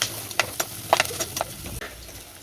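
Garlic and curry leaves sauté in hot oil for a fish kulambu, a soft sizzle broken by irregular stirring scrapes and light pops, heard up close without any talk.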